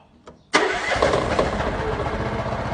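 A Honda 13 hp petrol four-wheel-drive walk-behind tractor engine starts with a brief crank and then catches abruptly into a loud, steady running roar close by.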